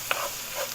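Garlic and caramelized onions stirred in a frying pan for beef stroganoff, a brief hiss of frying with a faint scrape of a utensil.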